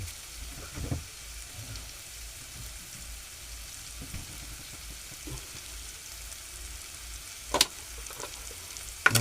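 Wet masala paste fries in a pan with a steady, hissing sizzle throughout, broken by a few louder crackles and spatters near the end.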